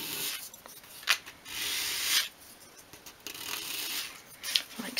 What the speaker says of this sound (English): you just want to start by sanding the edge of each piece and just going in one direction along your sandpaper